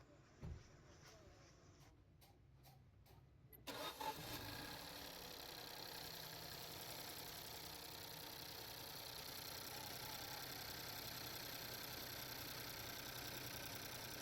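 Peugeot 2008 car engine with a brake booster vacuum fault, a few faint clicks and a short crank before it catches and settles into a steady, fairly quiet idle hum.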